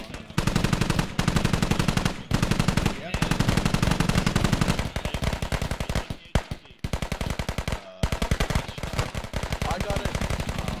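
An NSV heavy machine gun fires in a video game: long, loud, rapid bursts of automatic fire with only brief pauses, hammering on close by for the whole stretch.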